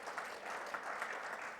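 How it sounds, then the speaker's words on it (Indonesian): Church congregation applauding during a worship service, a continuous dense wash of clapping heard from a distance at a fairly low level. "Berikan tepuk tangan bagi Tuhan."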